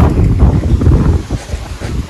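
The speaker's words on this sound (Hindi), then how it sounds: "बारिश नहीं आई, बस हवा चल रही है" Wind blowing outdoors at a brick kiln, a loud continuous gusty rumble buffeting the microphone, rising and falling in strength throughout.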